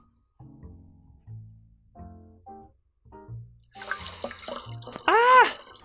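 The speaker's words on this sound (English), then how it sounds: "This is finally cool enough that I can just pour this in." A cooled liquid is poured into a blackberry, lavender and vanilla mead mixture. A few soft knocks and handling noises come first, then a splashy, gurgling pour fills the last two seconds, close and fairly loud.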